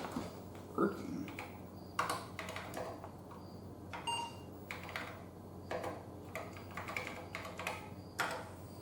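Keys clatter on an Apple IIe keyboard, irregular soft clicks and taps at close range over a faint steady hum, with occasional short beeps.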